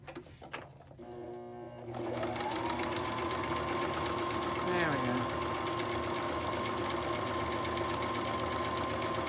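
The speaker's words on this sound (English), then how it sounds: "So I'm just straight stitching across the top of this little fold over." A sewing machine runs a straight stitch across a small fabric fold, beginning with a few clicks and handling noises before settling into a loud, steady, close mechanical hum that continues to the end.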